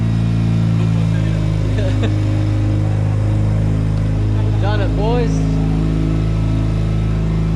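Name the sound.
Mazda RX-7 FD rotary turbo engine running and revving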